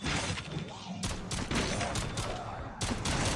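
Rapid bursts of gunfire crackle loudly in quick succession in Call of Duty Zombies, dense and continuous with short breaks, like automatic weapons firing close by against a horde.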